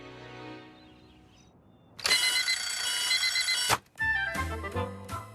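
A shrill cartoon alarm clock rings continuously for about two seconds, stops briefly, then resumes with a stepping beep pattern, loud and close.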